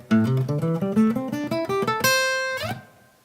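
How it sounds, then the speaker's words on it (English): A guitar plays a quick run of plucked notes rising through a scale, then a ringing power chord is struck and left to sustain before being cut off, close and clear with no talking. "I'm just going to play a little power chord. So you hear that?"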